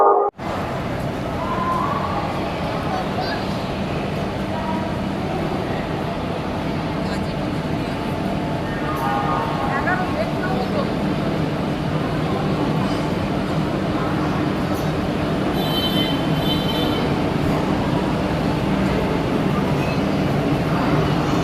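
Railway platform at a busy station with a train arriving, a continuous low rumble and mechanical drone under crowd noise, with a few brief higher squeals or tones partway through.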